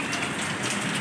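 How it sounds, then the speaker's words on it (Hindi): Light rain falls steadily in an outdoor setting, a soft continuous patter of drops on surfaces heard alone with no voices, even and close throughout. "हल्की आती है बारिश,"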